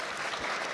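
Brief burst of steady audience applause at a startup investment summit pitch night, welcoming a sponsor, moderately distant and filling the whole moment without voices.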